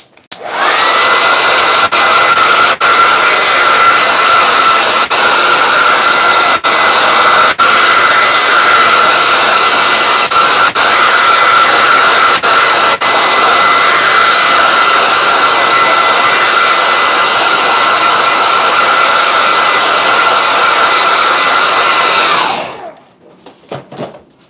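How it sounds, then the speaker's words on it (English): A hair dryer blows loud and steady for over twenty seconds, drying wet paint in a sketchbook, then clicks off, leaving near silence. "Hold on one second. Hair dryer."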